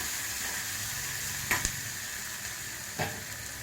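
Spice tempering for drumstick sambar sizzles in hot oil, a constant hiss up close with two or three brief sharp pops and clicks from the pan or ladle.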